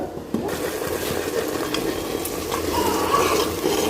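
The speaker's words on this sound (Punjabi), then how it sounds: "ਹੁਣ ਆਪਾਂ ਇਹਦੇ ਵਿੱਚ ਤੜਕਾ ਪਾਉਣ ਲੱਗੇ ਹਾਂ" Spices for a tadka sizzle loudly in hot oil, a steady crackling fry that continues without speech.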